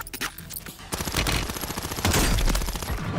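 Gunfire in Warzone 3: a rapid burst of close, loud automatic shots, quieter at first, then a dense fusillade that continues to the end.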